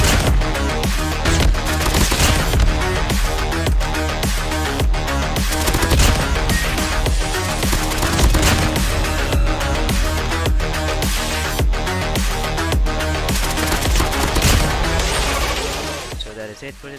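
Rapid automatic weapon fire in the mobile shooter game Call of Duty Mobile, dense bursts of sharp shots and impacts layered over game music and effects, loud and continuous before fading at the end.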